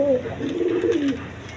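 Pigeons coo close by in a low, warbling run of calls, with no voices present; the birds are high-quality egg-laying breeding pigeons offered for sale.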